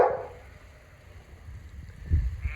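A dog on a farm with lambs gives brief low barks near the end, loud and close, after a quieter stretch of faint background noise.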